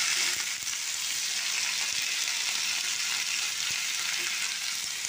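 Onions and diced potatoes fry in a pan with a steady, close sizzle that holds even and loud for its whole length, with no voices.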